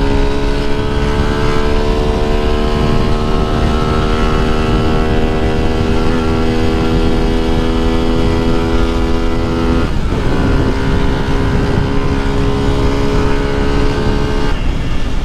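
A motorcycle on a city street revs loudly and close, its engine note rising in long sustained pulls, dropping sharply, then climbing again over constant road noise.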